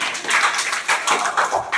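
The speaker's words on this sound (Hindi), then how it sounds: "जोरदार तालियां।" A coaching-class audience breaks into loud, brisk applause for a weekly test result, with dense, steady clapping that fills the short moment.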